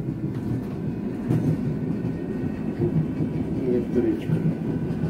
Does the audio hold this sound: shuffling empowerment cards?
no